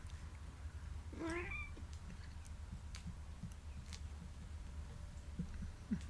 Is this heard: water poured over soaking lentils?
no